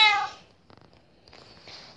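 A ginger cat in the Minecraft video game gives a short harmonic meow at the start, followed by faint scattered game sounds.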